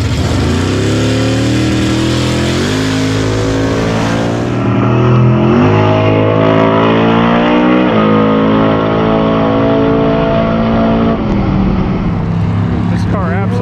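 Drag race cars launch down the strip with loud, close engine roars that climb in pitch in stages as they accelerate, sustained throughout.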